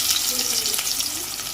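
Onions frying in oil in a pan for a Telugu thotakura side dish, a steady close hiss and crackle that runs the whole short stretch without a break.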